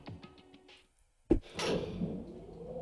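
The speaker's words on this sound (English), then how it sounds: "And the door slid shut." A sharp heavy thunk of an elevator door sliding shut in the Danganronpa video game, a single close impact followed by a lingering rumbling resonance, with no talk.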